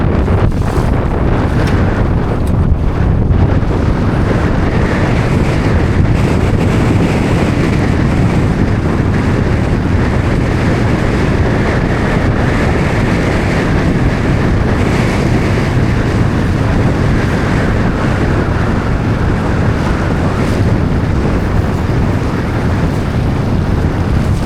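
Strong wind gusts roar continuously across a Freedom 21 sailboat on a lake, with broad buffeting noise and water sounds mixed in, loud and unbroken throughout.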